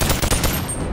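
A modded gun in the VR game Bonelab fires a fast string of close, loud shots in a quick rhythmic burst, with the sharp reports running together through the moment.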